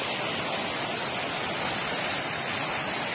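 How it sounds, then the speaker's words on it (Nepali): Ghatte Khola, a clear mountain stream near Dhampus, rushes steadily with a broad, even hiss of flowing water, close and constant throughout with no voices. "हेर्नु होला यो खोलाको आवाज पनि आउँछ"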